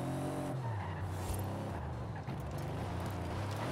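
Car in a video game race braking hard, engine tone dropping as tires skid and squeal in a loud, continuous rush.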